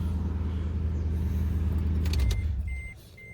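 A 2006 Toyota Tundra pickup truck engine rumbles through its exhaust at a steady low idle, rising slightly in a brief rev before dropping back to a quieter hum.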